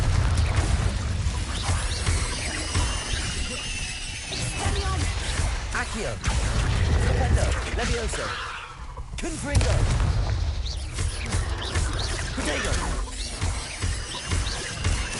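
Repeated Confringo spell blasts in Hogwarts Legacy, loud booming explosions and crashing impacts piling up with heavy low rumble, mixed with game combat noise and spoken incantations throughout.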